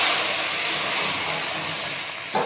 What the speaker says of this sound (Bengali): দেখেন, জল দিয়ে দিলাম।